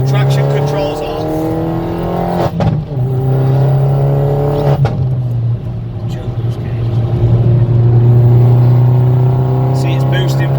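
A car revs and accelerates hard under turbo boost on a test run with traction control off, its steady engine drone rising in pitch, broken by two brief gear-change dips, with a person talking over it.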